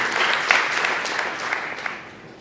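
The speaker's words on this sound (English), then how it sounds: "Yeah, actually, clap." Audience at a game jam's final presentations applauding steadily, a dense wash of many hands clapping at moderate volume that fades slightly toward the end, with a few voices faintly mixed in.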